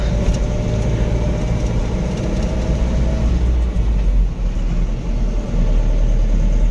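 A car engine hums and idles with a steady low rumble, loud and close, holding a constant drone that shifts slightly partway through, with no voices.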